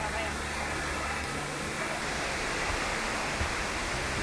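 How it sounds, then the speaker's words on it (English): Rainbow Falls in Gorges State Park pours down in a continuous, steady roar of crashing water, a dense broadband rush that holds even and loud for the whole stretch. "as the crash of the waterfall fades away"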